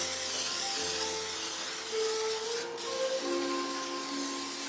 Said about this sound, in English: You spray your pan down really good.